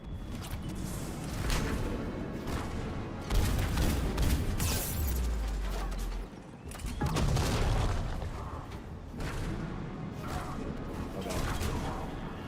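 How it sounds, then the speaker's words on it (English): Mass Effect 3 combat with grenades and turret fire, heavy booming blasts and a dense crackle of gunfire at a steady loud level, with someone talking over it now and then. "So many fucking grenades and turrets."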